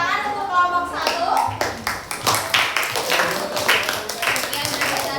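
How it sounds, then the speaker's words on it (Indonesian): Pupils in a classroom clap for a presenting student group, a dense run of hand claps lasting several seconds with children's voices chattering underneath. "tepuk tangan untuk kelompok 1"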